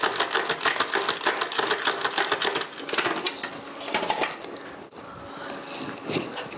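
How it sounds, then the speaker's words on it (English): A food processor pulses the dry ingredients for a pie crust, a close, steady whirring and rattling in short bursts that ease off partway through, with no talk over it. "So now I'm just going to pulse this."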